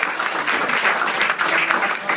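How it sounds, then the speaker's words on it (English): Crowd applause, dense and loud with continuous clapping throughout the short stretch and no pause. "Give them big round of applause"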